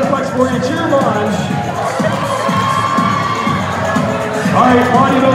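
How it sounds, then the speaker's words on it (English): Audience cheering loudly for hypnotized bodybuilders flexing on a stage at a hypnosis show, a steady crowd roar with shouts and whoops sustained throughout, building slightly toward the end. "The more you cheer, the more they're going to flex for you. Cheer them on."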